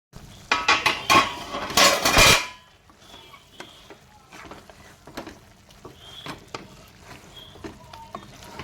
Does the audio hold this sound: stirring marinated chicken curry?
yes